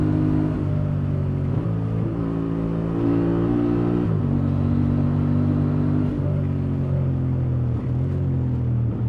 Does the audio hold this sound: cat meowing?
no